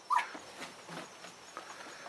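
A Blenheim puppy lets out a short, faint whimper near the start, followed by soft, quiet whining and rustling in an otherwise hushed room.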